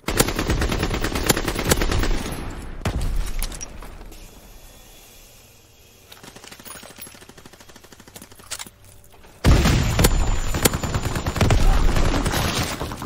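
Heavy automatic gunfire in a Call of Duty match rattles in loud, dense bursts, eases into a quieter lull, then returns in another intense volley of rapid shots.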